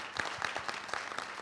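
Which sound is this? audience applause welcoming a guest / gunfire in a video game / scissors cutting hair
audience applause welcoming a guest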